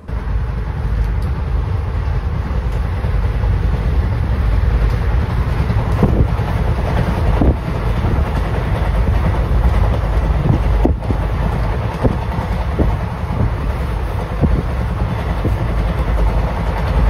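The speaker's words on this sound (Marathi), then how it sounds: "आता ही दुसरी ट्रेन आहे परळी पुणे" Parli–Pune passenger train passing by close, a steady loud rumble of wheels on rail with wind buffeting the microphone and sharp clicks of passing wagons throughout.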